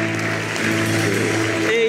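Church congregation applauding, a dense, steady clatter of many hands blended with a speaking voice over it throughout the short burst.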